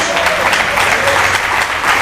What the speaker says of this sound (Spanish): ¿Cuántos dan un aplauso al Señor Jesús?